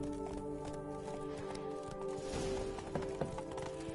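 A horse gallops in The Witcher 3: Blood and Wine, its hoofbeats a steady, fairly loud rhythm over a droning game soundtrack and ambient wash, with a couple of sharper thuds near the end.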